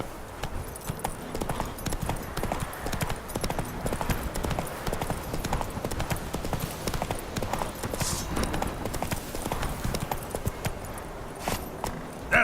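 A horse gallops steadily through a video game, its quick rhythmic hoofbeats clopping continuously at a close, even volume over a low ambient bed, with no talking.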